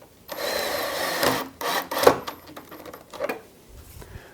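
A cordless drill drives a screw into wood while building an armoire, its motor whirring in bursts that rise in pitch and strain as torque builds, with pauses between trigger pulls, close and fairly loud.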